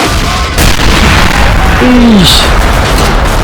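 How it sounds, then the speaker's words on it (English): Loud booming artillery explosions in a toy war battle, a heavy blast with a falling whistle and sharp bursts, packed densely together, with a voice reacting over them. "There's the back turn artillery support."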